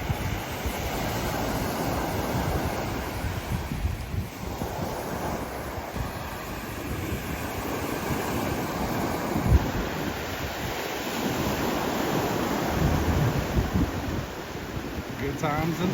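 Surf breaks and washes continuously on a sunny Alabama beach, a broad steady rush with swells rising and falling, wind buffeting the microphone and a voice speaking at times.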